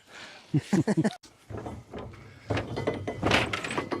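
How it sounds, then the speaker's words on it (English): An abandoned log loader at a sawmill takes a series of heavy kicks against its door, a quick run of thumps and a bang followed by metallic clunks and rattling as the door is forced, with no talk. "you're going to have to climb through the windshield and kick the door"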